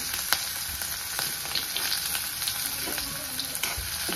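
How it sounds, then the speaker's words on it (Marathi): Chopped onion with cumin and mustard seeds frying in hot oil for a gourd chutney, a dense close crackling sizzle with scattered sharp pops and spits throughout, no voices. "एक कांदा चिरून घेतलाय, ते पण तेलात टाकून घेणार"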